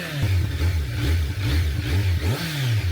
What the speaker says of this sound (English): I'm not going to argue that it doesn't sound good for a stock exhaust